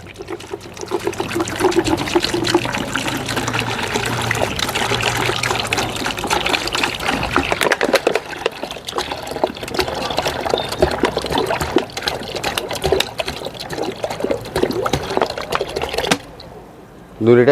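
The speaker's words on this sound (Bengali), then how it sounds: "দেখো দু লিটার আমি জল দিয়ে দিচ্ছি দু লিটার" Two litres of water pour into a pot to make an organic fertilizer tea for plants, a steady, close, splashing stream that runs continuously and then stops abruptly near the end.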